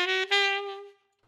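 Two smooth saxophone notes open a daily practice exercise, played close and alone, the second sustained before tapering off quickly into quiet.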